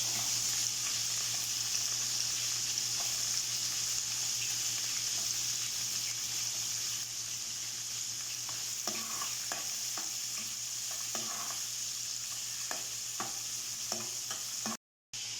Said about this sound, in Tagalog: Isunod ko na agad ang sibuyas.